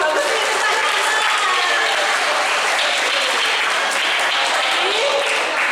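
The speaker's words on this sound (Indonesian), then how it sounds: "Kasih aplaus dulu dong." Sustained audience applause fills a hall at an anti-narcotics awareness session, dense and steady clapping from a large crowd throughout, without speech over it.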